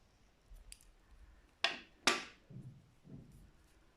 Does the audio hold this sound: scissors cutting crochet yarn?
yes